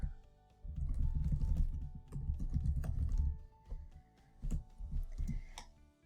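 Bursts of typing on a computer keyboard as text is entered into a blank label in job dispatch software, with quick clustered keystrokes broken by short pauses, close and fairly loud.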